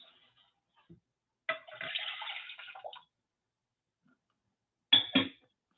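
Beef broth, about 300 milliliters, poured into a pot, giving a steady liquid splash for around a second and a half, then a short second pour after a pause.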